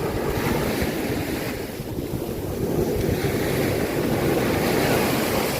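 Waves roll and break at Phayun Beach in Ban Chang, Rayong, a loud, continuous surf wash mixed with heavy wind buffeting the microphone, swelling slightly toward the end, with no voices.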